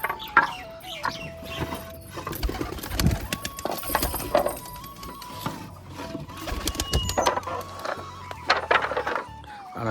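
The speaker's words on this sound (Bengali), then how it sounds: "এখনও দুই জোড়া পায়রা আছে দুই তিন জোড়া এখানে আছে কালো ম্যাড্রাস এক জোড়া এখানে আছে" Pigeons of the black Madras breed kept in cages, giving repeated cooing and wing rustles amid busy, clattering background noise.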